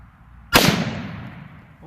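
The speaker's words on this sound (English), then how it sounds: "I think those were 5 good shots." A single sharp rifle shot from a CMMG Mutant MK-47 or WASR-10 AKM outdoors, a loud sudden crack followed by a long rolling echo that fades over about a second; only one shot is heard, not five.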